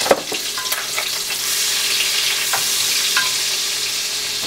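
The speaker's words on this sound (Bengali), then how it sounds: "এখন আমি কুচি করা পেঁয়াজ আর পেস্ট করা পেঁয়াজটা আমি একসাথে দিয়ে দিব।" Chopped and pasted onions fry in a mix of oil and butter for egg korma, a steady, close sizzle punctuated by a few sharp stirring clicks, with no voices.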